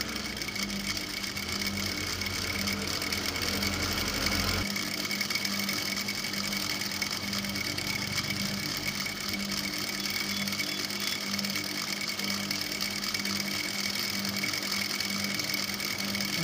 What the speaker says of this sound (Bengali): সেলাইটা আমি দিয়ে নিচ্ছি।